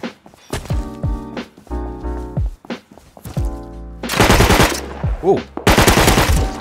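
Loud bursts of automatic gunfire from a video game gun, several rapid volleys separated by short pauses, with a brief exclamation from a player in between.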